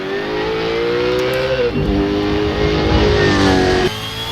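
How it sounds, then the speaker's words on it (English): Simulated V8 Holden Commodore race car of about 650 horsepower in a Bathurst hotlap racing game: a loud, continuous engine roar that holds high revs, dips briefly as it shifts, then climbs again, with no talk over it. "I think we've got about 650 horsepower in this V8 Commodore beast"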